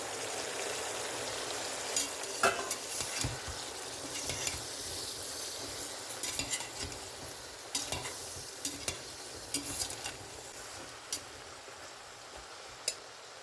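Broad beans tipped onto meat in a hot pan for a meat-and-broad-bean stew, giving a soft continuous sizzle broken by frequent sharp clicks and scrapes of stirring, no one speaking.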